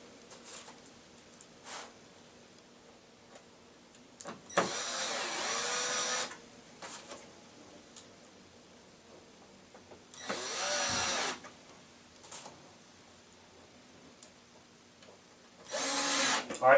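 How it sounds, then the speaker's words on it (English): Power drill or driver sending screws into a lazy Susan cabinet during assembly, heard as three separate loud whirring bursts of about one to two seconds each, with quiet handling noise in between and no talking. "you just anchor the screws down"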